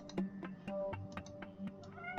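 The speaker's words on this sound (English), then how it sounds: "Oh, that's my cat, who's now on my lap." A pet cat meows softly and repeatedly, close by, with short chirpy calls spaced through a quiet room.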